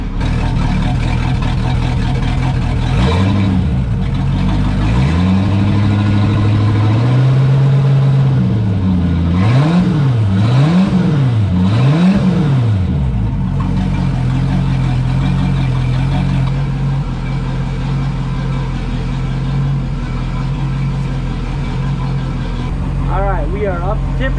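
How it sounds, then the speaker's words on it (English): A 5.7L V8 boat engine idles steadily while warming up before winterizing, a loud continuous low rumble throughout, with a voice talking over it for a stretch in the middle. "She's running. That worked great. Now we gotta let it warm up the temperature"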